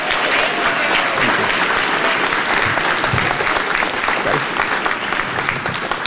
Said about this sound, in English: I want to take a moment to really, really give a nice round of applause for Miss Valerie Staples